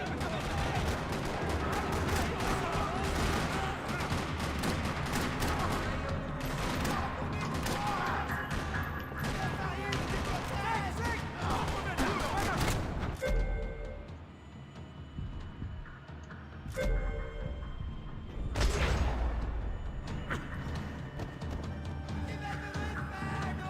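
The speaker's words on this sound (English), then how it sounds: "Parking lot rattling with gunfire." Rapid bursts of gunfire in the video game Max Payne 3 crackle almost continuously in a parking lot, then thin out into scattered shots and a heavy blast amid mechanical clatter.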